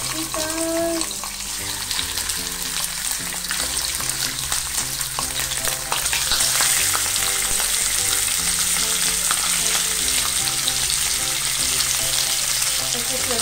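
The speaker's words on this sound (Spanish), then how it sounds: "Vamos a empezar a poner nuestras carnecitas." Meat sizzling and frying in a hot pan for a Bolivian kawi stew, a steady loud crackle throughout with background music playing over it and no talking.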